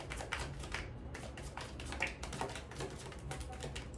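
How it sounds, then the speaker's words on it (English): Tarot cards being shuffled by hand, a steady run of soft, close riffling taps and slaps that repeat throughout with no talking. "The more I read tarot, the more I become too darn good at shuffling"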